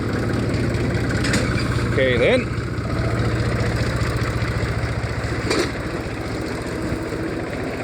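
A steady low tractor engine idle runs throughout, with a short spoken remark partway through and a few faint clanks near the start.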